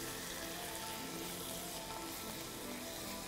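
Green chili hits hot oil in a pan for a Bengali radish-greens and prawn poppy-seed dish, giving a soft, steady, even sizzle with no pauses or voices.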